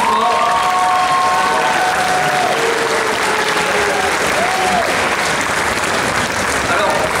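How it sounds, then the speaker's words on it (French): A large audience at the Mangame Show Fréjus 2016 cosplay group contest applauds a Xenoblade cosplay group in a loud, continuous wash of clapping, while a voice and faint tones carry over it. "On les applaudit avec toi."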